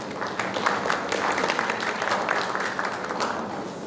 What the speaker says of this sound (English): really deserve a large applause from all of us